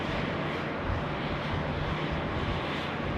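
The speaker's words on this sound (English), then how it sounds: "the Fiji A350 is heading out to 16 left" Fiji Airways Airbus A350 taxiing out for departure at Sydney Airport, heard as a steady, loud broadband jet-engine roar with a constant low rumble and some wind buffeting the microphone, no speech.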